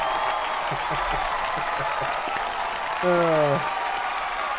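A short applause sound effect played during a podcast, a burst of crowd clapping under a voice, with a brief rising synthetic tone near the end.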